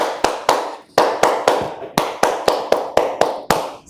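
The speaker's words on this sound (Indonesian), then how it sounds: "sifat wajib itu tepuknya seperti ini" Classroom clap chant with sharp, rhythmic hand claps in an irregular patterned sequence, about a dozen loud, close claps spaced unevenly, with no voices.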